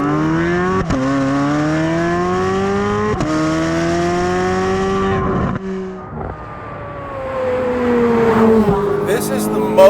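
A Chevrolet Corvette C8 Z06 engine revs freely as the car drives, loud and close, its pitch climbing repeatedly and dropping sharply at each gear shift, then easing into a rougher, quieter running note.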